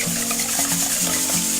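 Water poured from a measuring cup into a bowl of squeezed lemon juice for a green banana ceviche sauce, a steady close trickling pour with bubbling tones, no talking.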